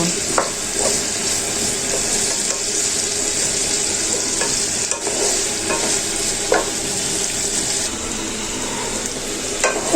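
Chopped onion, green chili and garlic sizzle steadily in hot oil in a pan, with a spoon scraping and stirring through them in repeated strokes, loud and close, with no talk.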